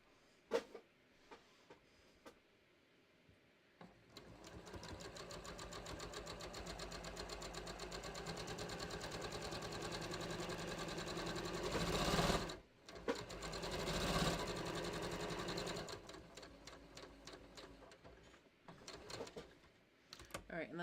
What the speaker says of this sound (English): I'm just going to stay stitch like at a 1/4 inch here